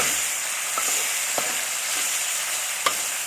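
Garlic frying in a little oil in a pan for a home-style Thai stir-fry of long eggplant with minced pork, a steady close sizzle with a few faint scrapes of stirring and no talk.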